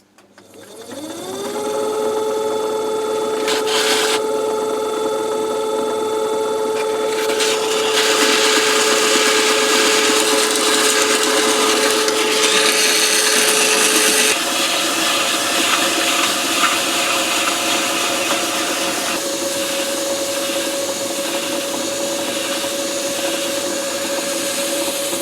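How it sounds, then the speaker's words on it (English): A power sander grinds mill scale off a steel pin on a Meier & Weichelt mobile workbench under restoration, a loud, steady whirring drone that spins up, holds for several seconds and shifts pitch as pressure changes. "There's some mill scale on it, so we are gonna sand this down a bit."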